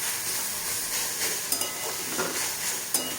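Whole black peppercorns frying on a stone, a steady close sizzle and hiss with a few light clicks and taps scattered throughout.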